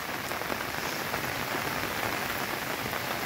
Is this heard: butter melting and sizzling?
no